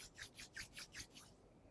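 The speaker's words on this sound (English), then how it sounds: "Rub your palms." Palms rub briskly together in a soft, rhythmic swishing, about six quick strokes close up and quiet, fading out at the end with no talking.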